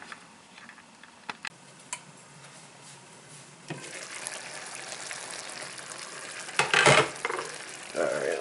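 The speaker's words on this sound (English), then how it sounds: "Now we'll give the vegetables one more stir, and then we'll combine the two" Vegetables for borscht are stirred in a pot, with scattered scrapes and knocks of the utensil over a soft sizzle that grows busier and louder in the second half; no one talks.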